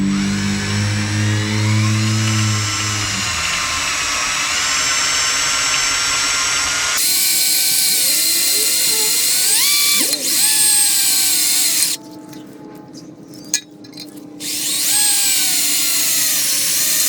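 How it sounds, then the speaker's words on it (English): Power drill running a Harbor Freight drill bit through metal while fitting seats in a 2005-2010 Scion tC, a loud whine that shifts pitch partway through, with brief drops as the bit catches and the motor eases. "Not too bad for a Harbor Freight drill bit."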